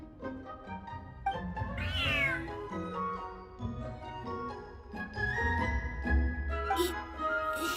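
A cat in Genshin Impact gives several clear, close meows of varying pitch over soft game music, with no one talking.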